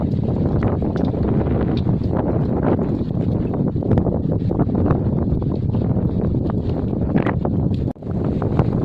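Strong wind at the start of a storm buffets an open village spot, a constant loud roar and rumble of gusts striking the microphone that dips briefly near the end.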